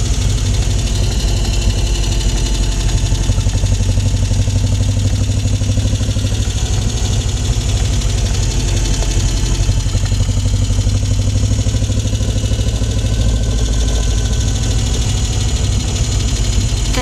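A quad bike engine runs on and on under heavy ride noise during a rough winter off-road trip, a loud steady rumble with a constant roar and no pauses, up close.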